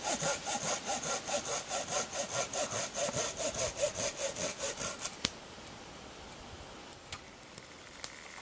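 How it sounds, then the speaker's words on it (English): A Laplander folding saw cuts through a piece of timber, with about five seconds of steady, rhythmic pull strokes, close and fairly loud, before the sawing stops and only a few faint ticks remain. "So we have about 15, 16 pulls on that there now to cut through that piece of timber."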